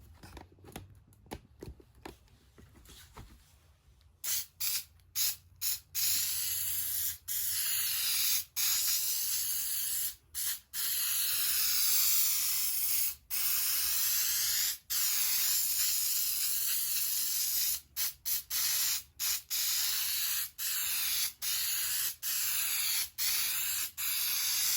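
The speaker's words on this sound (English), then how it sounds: "I still have this other half to do, so I'll spray that now." Spray bursts onto the second half of a rug during rug making, a long run of loud hissing sprays broken by brief pauses, with soft handling noises before the spraying starts.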